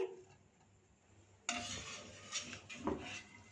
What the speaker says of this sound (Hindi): गर्मा गर्म गोभी को स्ट्रेनर में डाल देंगे।